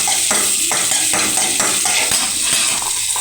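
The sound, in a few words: mustard seeds spluttering in hot oil for tempering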